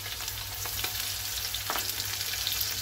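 Chopped onion and garlic fry with chicken in a pan, a steady close hiss of sizzling oil with a faint clatter of stirring, under a low constant hum.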